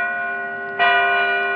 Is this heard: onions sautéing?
no